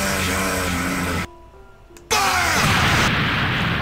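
In the Minecraft Dragon Block C mod, a Special Beam Cannon attack roars as a loud, dense burst. It cuts briefly to quieter ringing tones, then surges back as a sustained rumbling explosion with a noisy, crackling tail.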